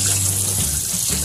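Tap water runs in a continuous, close hiss and splash as fresh ginger root from a backyard garden is rinsed under it, steady throughout with no voices.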